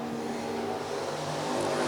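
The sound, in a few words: IMCA stock cars racing on the track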